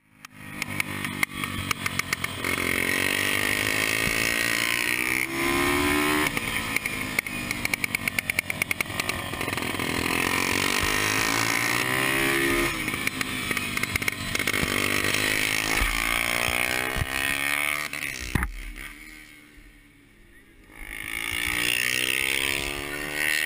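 A 250 cc motorcycle engine revs hard and steadily for most of the stretch, its loud, buzzing drone rising and falling through repeated accelerations, then briefly dropping away before coming back strong.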